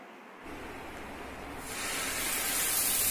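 A spoonful of oil hits a hot dosa pan and sets off a soft, steady sizzling hiss that swells louder after a second and continues without pause, with no talking.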